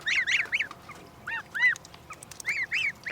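Goslings 27 days old, eating grass from a bucket, give repeated short high honking peeps in quick irregular bursts, close and clear over a quiet background.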